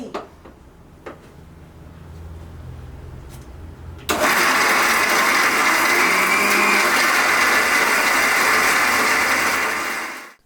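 A mixer grinder blending chilli chicken masala paste starts abruptly after a few quiet seconds of faint clicks and handling, then runs as a loud, steady, high-pitched whirring grind for about six seconds before winding down, no talk.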